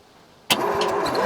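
A flathead Ford engine that has sat for 55 years, cranked from a remote starter switch: after half a second of near silence, a close, loud mechanical churn starts abruptly and runs steadily without catching.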